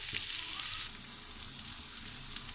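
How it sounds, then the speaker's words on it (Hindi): Water in a pot coming to a boil for spaghetti gives a steady, close hiss of bubbling and seething that is strongest at the start and then settles, with no voices. "पानी हमारा उबलना शुरू हो चुका है"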